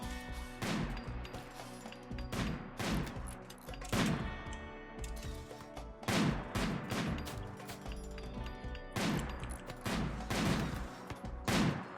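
Gunfire in Rimworld combat, made up of repeated bursts of shots that come in clusters with short gaps between them, loud and sharp across the whole stretch, with no talking.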